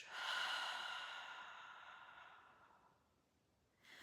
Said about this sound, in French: inspire profondément par le nez et expire doucement par la bouche